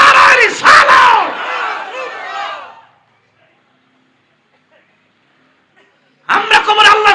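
A crowd at a Bangladeshi waz religious gathering roars back a loud collective response to the Nara-e-Takbir chant, a sustained shout of many voices for about three seconds, then silence, then another burst of voices.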